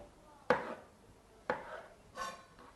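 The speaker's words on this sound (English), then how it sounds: "all I'm going to do here is place it flat side down. I'm just going to run my knife along." A knife cuts through a vegetable laid flat side down on a cutting board, giving three sharp, quiet chops about a second apart.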